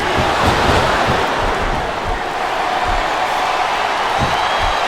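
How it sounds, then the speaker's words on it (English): Video game wrestling crowd from WWE Smackdown vs RAW 2007 on Xbox 360, during a women's submission match, roars as a steady, dense wash of cheering with occasional louder swells, continuous throughout. "I love hearing the crowd come alive"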